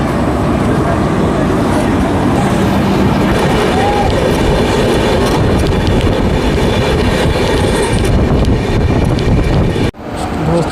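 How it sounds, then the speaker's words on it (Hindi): The Shatabdi Express rushes past between Kanpur and New Delhi, heard from aboard another train as a loud, continuous roar with clattering wheels and wind buffeting, cutting off abruptly near the end. "एक्सप्रेस हमारी ट्रेन पार हो रही है कानपुर नई दिल्ली के बीच, शताब्दी एक्सप्रेस"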